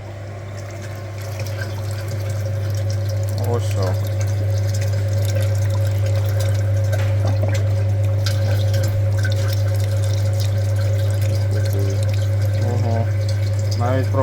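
A coolant flushing machine runs on the cooling system of a Skoda Octavia A7, hooked to the heater core, giving a steady loud low hum with a constant tonal drone and occasional faint liquid drips and clicks over it.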